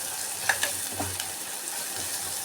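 Gongura leaves sizzle in a hot pan with oil while cooking gongura pulao, making a faint, steady frying hiss with a few soft clicks of stirring.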